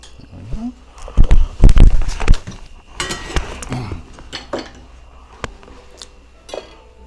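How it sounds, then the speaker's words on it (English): Metal slotted spoon clinks and scrapes against a dish while separating an egg white for a Chicago Fizz cocktail, with several sharp close taps and a few fainter clicks, mostly alone. "I use a slotted spoon and just do it right into a dish."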